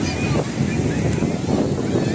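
Sea waves wash in at Shivrajpur beach near Dwarka, a broad, rolling surge mixed with heavy wind buffeting the microphone, while voices chatter faintly underneath.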